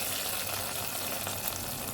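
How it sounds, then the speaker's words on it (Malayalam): Fried mustard seed tempering for Kerala-style sambar, poured hot into the curry, gives a steady, loud, dense sizzle that runs unbroken for the whole two seconds with no voices. "സാമ്പാറിൻ്റെ ലാസ്റ്റ് സ്റ്റെപ്പ് ഇതിലേക്ക് കടുക് വറുത്തത് ഒഴിച്ചു കൊടുക്കാം."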